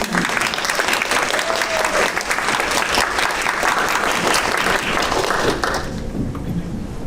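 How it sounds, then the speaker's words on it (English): A room full of people at a student board meeting claps for several seconds after a unanimous vote, the dense, steady applause fading out near the end. "And please clap for everything."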